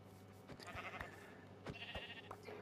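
Sheep bleat in a farming video game, several short calls spread across the moment over a steady background hum and soft game sounds.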